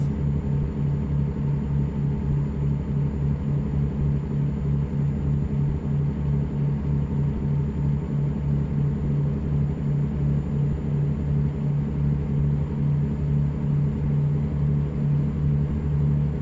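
A heavy truck engine in the American Truck Simulator video game drones steadily at full throttle, a loud, constant low hum with no break and no talking over it.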